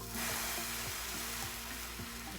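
A buttered slice of bread sizzles steadily in a hot pan, a continuous close hiss and crackle of frying with no talking.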